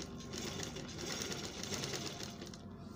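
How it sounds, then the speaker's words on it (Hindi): A sewing machine runs steadily, stitching at a continuous fast rhythm with a dense mechanical whir and patter throughout, close and fairly quiet, with no talk. "इस चक्की को ऐसे घुमाएंगे, अब सिलाई मारेंगे।"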